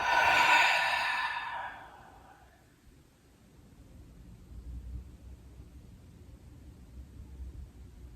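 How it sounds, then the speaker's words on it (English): Slow breathing during pranayama yoga practice, one loud close exhale trailing off, followed by quieter, softer breath noise. "Breathe in and out."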